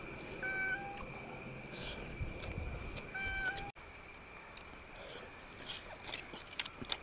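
A cat meows near a pot of Kerala anchovy fish curry, several short faint mews in the first few seconds, with kitchen clatter and a steady high electrical whine behind.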